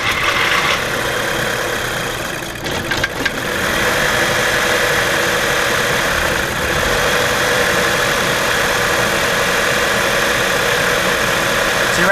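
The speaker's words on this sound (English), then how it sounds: "The engine is not running, so start it up." A 2008 Audi A4 engine idles steadily and close by, a continuous mid-pitched hum with a brief disturbance early on, while faint voices occasionally murmur underneath.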